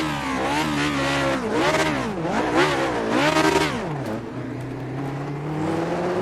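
A Lotus 49 race car engine in the iRacing sim revs hard and continuously, pitch climbing and dropping through repeated throttle bursts before settling into a steadier drone, loud and close with no talk.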